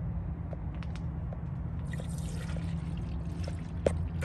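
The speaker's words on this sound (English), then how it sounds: "So I'm just gonna pour all this coolant back into the system." Engine coolant poured into the radiator of a Toyota Land Cruiser with a 4.7L 2UZ-FE V8, a soft, steady liquid pour with faint drips, heard close and alone over a low hum.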